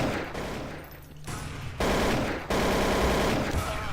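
Gunfire in Counter-Strike: Source comes as loud, rapid automatic bursts, with sharp onsets and dense shot trains separated by brief pauses.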